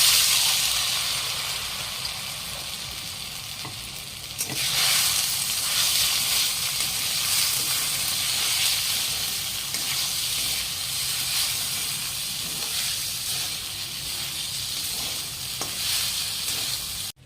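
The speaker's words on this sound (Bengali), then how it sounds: "তো আমি এবার কড়াতে সাবুদানাটা দিয়ে দেবো।" Soaked sago pearls cook in a kadai with a continuous sizzling hiss, close and steady, with occasional soft scrapes as they are stirred.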